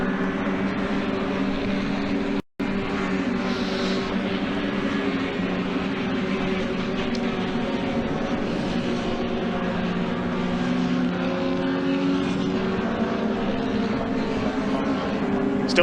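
Racing trucks at Donington Park give off a steady, droning engine roar that holds at a high level throughout, with a brief dropout near the start.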